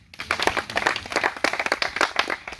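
Students at a Ugandan secondary school give a speaker a brief burst of lively applause, many hands clapping in a dense, uneven patter that rises quickly and holds.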